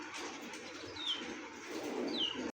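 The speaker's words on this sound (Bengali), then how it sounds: "তো অঞ্চল সবগুলো ছটফট করতেছে কবুতরগুলো" Restless pigeons kept for sale give two faint, brief downward-sliding calls over a soft background hush, with no voices nearby.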